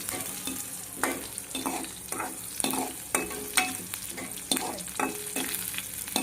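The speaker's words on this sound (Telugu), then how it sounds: "3 పచ్చిమిరపకాయలు, ఒక ఉల్లిపాయ చిన్నగా కట్ చేసుకొని వేసుకున్నాను. దీన్ని ఇప్పుడు మంచిగా కలుపుకుందాం." Chopped green chillies and onion frying in a pan with cumin for sabudana upma, stirred with a utensil that scrapes and taps the pan in a regular rhythm over a continuous sizzle.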